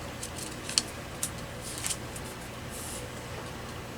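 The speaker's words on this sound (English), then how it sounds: "I'm going to pull my doily in half about right there and then cut it" Scissors cutting through a paper doily, a few quiet, crisp snips spaced unevenly over a few seconds, close by against a soft background hiss.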